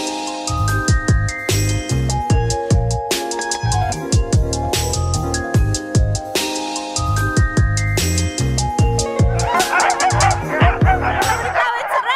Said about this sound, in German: Wow, Hundeschlitten fahren in Finnisch